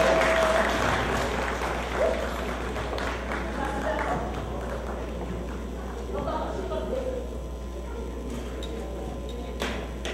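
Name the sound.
applause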